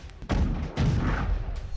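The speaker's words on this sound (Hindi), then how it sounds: "यह रूसी तोपखाना है।" Russian artillery firing in the war in Ukraine, heavy booming blasts in quick succession, loud and close with rumbling tails between shots and no talk over them.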